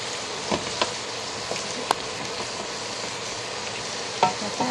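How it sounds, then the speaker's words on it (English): Pork pieces stir-fried in a pan or wok for sweet and sour pork, a constant close sizzle with occasional sharp clicks of a utensil against the pan, no talking. "But you do want to just do a quick little stir fry."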